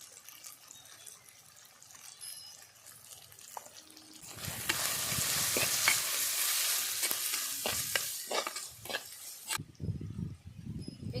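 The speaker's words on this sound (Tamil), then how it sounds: "வெங்காயம் தக்காளி நல்லா வதக்கிருச்சு" Onion and tomato sautéing for a village-style kuzhambu: a quiet stir is followed by a loud, continuous sizzle as the pan heats, with stirring scrapes. It drops away near the end and clattering stirring sounds take over.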